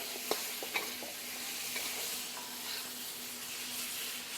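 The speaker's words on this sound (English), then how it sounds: "you're going to, once again, stir it up nice and even. Want to make sure the garlic doesn't burn" Finely cut garlic sizzles steadily in a very hot pan for beef stir fry, with a few sharp scraping clicks of stirring near the start over a continuous close frying hiss.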